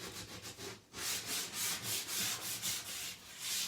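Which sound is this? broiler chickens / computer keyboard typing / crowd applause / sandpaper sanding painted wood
sandpaper sanding painted wood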